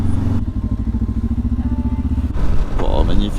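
A motorcycle on a dirt trail during a road trip in Sweden, its engine giving a steady pulsing drone that then lifts in revs, with a person speaking briefly near the end.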